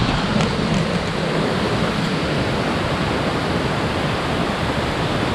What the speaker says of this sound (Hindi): यहाँ पर साइड में पानी बह रहा है